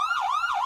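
An ambulance siren wails in a rising and falling sweep, loud and continuous, about one and a half cycles heard close up with nothing else behind it.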